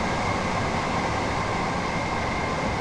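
A train runs along the East Coastway Line toward Eastbourne in the Train Sim World game, giving a steady cab rumble and hum with an even whine that holds without a break and has no talk over it.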